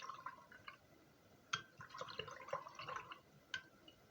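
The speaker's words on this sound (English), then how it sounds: "Wash my brush." A paint brush is washed in water, giving faint, close splashing, dripping and soft swishing with a few sharper clinks against the container, quiet and without talk.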